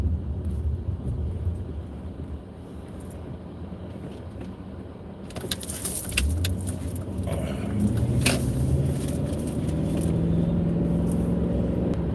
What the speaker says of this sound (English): Oh God, this car is turning on me.